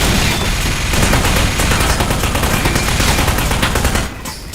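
Rapid automatic gunfire from a weapon in the video game Aperture Desk Job, loud and dense, a continuous stream of shots for about four seconds before cutting off.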